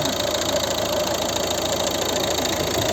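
Close, steady idle of a 2011 Volvo V50 1.6 diesel engine: an even rumble with a light ticking knock throughout and no talking.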